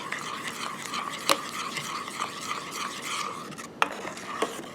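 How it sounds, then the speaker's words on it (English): Low carb blackberry jam stirred in a pot off the heat until dissolved, a steady soft scraping and swishing with a couple of sharper spoon knocks against the pot, close and moderately quiet. "So I'm just going to stir it up until it's totally dissolved."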